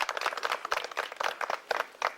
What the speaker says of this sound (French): Des applaudissements appuyés pour Aziz